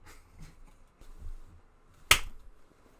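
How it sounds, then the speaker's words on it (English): One sharp, loud hand clap rings out close to the microphone in an otherwise quiet indoor space, preceded by faint low rumbling. "That was a really good clap."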